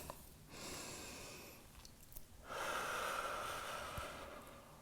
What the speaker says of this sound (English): We'll take 2 more deep breaths here.